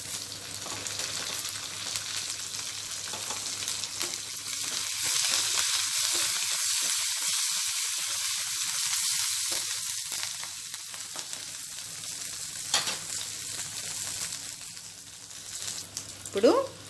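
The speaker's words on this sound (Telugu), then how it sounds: "ఉల్లిపాయ ముక్కల్ని కొద్దిసేపు ఫ్రై చేసుకుందామండి." Onion pieces and curry leaves fry in hot oil for a brinjal and okra dish, with a loud, steady sizzle and occasional stirring. A voice talks over it.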